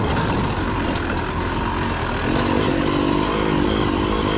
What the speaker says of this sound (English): Coxy is still riding his trusty old Gas 300, the original Spanish bike